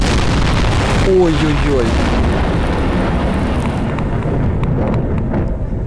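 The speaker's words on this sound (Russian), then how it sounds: "Это же реально мощный взрыв был." A huge bomb blast in Garry's Mod roars as a loud, sustained rumbling explosion filling the whole stretch and fading slowly, with a brief voiced exclamation near the start.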